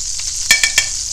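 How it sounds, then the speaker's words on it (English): Hot oil frying in a pan while cooking a freshly caught mutton snapper, with a steady sizzle and three quick, sharp pops close together near the middle of the clip. "We don't want anything getting too hot and popping like it just did."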